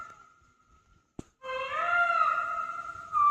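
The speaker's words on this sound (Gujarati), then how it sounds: "મોરલો બોલે હમણાં તમને સંભળાય છે." A peacock calls in the morning in a rural Gujarati village: a sharp tap, then one loud, drawn-out, wavering wail that rings close and clear against near silence, with no voices.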